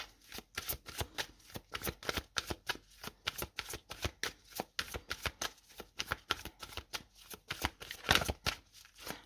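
Tarot cards are shuffled close up in quick, even riffles, a rapid run of crisp papery slaps repeating steadily, alone and fairly quiet.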